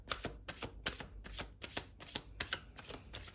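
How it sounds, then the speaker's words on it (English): A tarot card deck being shuffled by hand, a quiet close run of about a dozen crisp riffling flicks in an uneven rhythm with no talk. "we will give the deck one last shuffle there"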